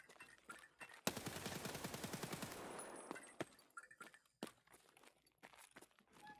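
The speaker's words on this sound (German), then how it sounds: "Wenn er schießt mit M61 Munition" Rapid automatic gunfire in Escape from Tarkov, rounds loaded with M61 ammunition: a loud, fast burst of evenly spaced shots for about two seconds, then scattered single shots and footsteps.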